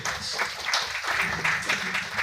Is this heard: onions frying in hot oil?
no